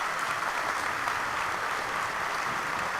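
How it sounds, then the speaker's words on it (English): Steady applause from a large crowd at a high school band winter concert, a dense continuous wash of clapping that holds at an even level throughout with no voices standing out. "Let's give these kids one more round of applause."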